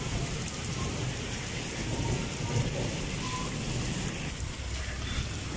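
Heavy rain in Pakistan pours down steadily in a dense, loud roar, with a low rumble underneath and no voices.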